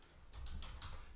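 A short burst of key clicks comes from a computer keyboard as a stock symbol is typed in, several quick close taps over a faint background hush.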